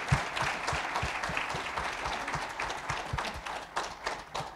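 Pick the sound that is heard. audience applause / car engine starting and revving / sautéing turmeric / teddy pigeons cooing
audience applause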